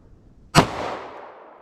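A single sharp pistol shot with Underwood FMJ flat point ammunition cracks loudly at close range, then decays into a short echoing tail on an outdoor range.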